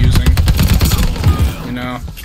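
An Owen Gun submachine gun fires in Call of Duty: Vanguard multiplayer, sounding as loud, rapid automatic bursts of close gunfire that run almost continuously and then trail off at the end.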